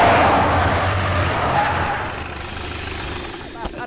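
A car brakes on a road, a loud broadband rush of tyres and engine fading over a few seconds as the vehicle slows to a stop.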